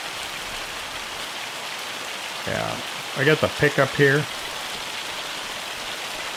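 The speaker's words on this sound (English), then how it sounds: "The rain started." Rain falls in Farming Simulator 25 as a steady patter and hiss throughout, while someone talks briefly over it partway through.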